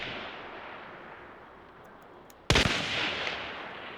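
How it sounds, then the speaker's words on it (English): A single sharp long rifle shot from the Hunt Showdown video game cracks out after a stretch of low ambient hiss and fades with a lingering echo. "when you're in a fight and you hear this in back of you, get ready because there's a long rifle coming"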